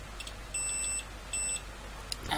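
Two short electronic beeps from a multimeter continuity test on a TDA2020 amplifier, a high steady tone each lasting about half a second, with a brief pause between and faint clicks afterward.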